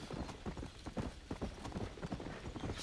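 Horse hooves clip-clop in the video game Red Dead Redemption, a quick repeated trotting rhythm of hoof strikes, soft and fairly faint, with no voices over it.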